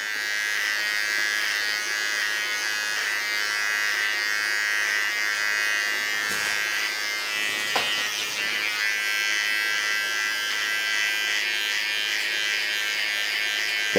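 Electric hair clippers buzz steadily and close as they cut short pixie-style hair up the back and along the neckline, one continuous tone with slight shifts as the blade moves.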